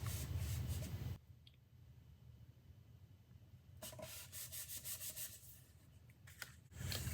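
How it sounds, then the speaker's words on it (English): Fingertips burnishing a paper card down onto exposed glue, giving soft, quiet rubbing strokes close up, a few repeated swishes between brief pauses. "I'm burnishing it with my fingers"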